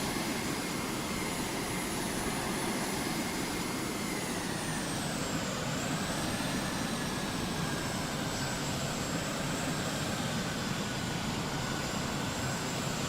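Aircraft engine drone in the Carrier Command 2 video game, a loud steady roar with a high whine that holds throughout and shifts pitch slightly midway, with no talk.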